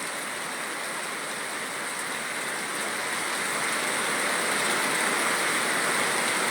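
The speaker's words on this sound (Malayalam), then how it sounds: "മഴ പെയ്യുന്നതിനനുസരിച്ച് ഇടിയും വെട്ടുന്നുണ്ടെന്ന് തന്നെ നമുക്ക് പറയാൻ സാധിക്കുന്നുണ്ട്" Rain falls in Amaravila, Neyyattinkara, Thiruvananthapuram as an even, continuous hiss that swells slightly louder toward the end, with no distinct thunderclap standing out.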